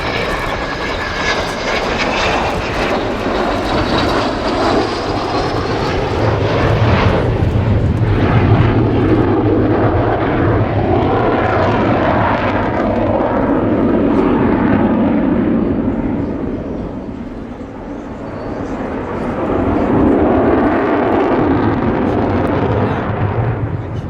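An Avro Vulcan XH558 jet bomber roars through a flying display at the Yeovilton air show, a loud, sustained engine rumble and howl that swells and dips as the aircraft passes, with no voices over it.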